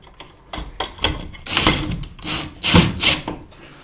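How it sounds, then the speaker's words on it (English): An impact driver runs a screw into a light switch during a switch replacement, giving several loud mechanical bursts of a second or so each, close to the mic, separated by short pauses. "this is where the impact comes in good, because you don't have to use a hand screwdriver"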